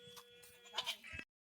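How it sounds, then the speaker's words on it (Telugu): Goats kept on a farm during rice harvesting bleat in a few short, close calls, with quiet pauses between them, before the sound cuts off. "మాకైతే మేకలు ఉన్నాయి"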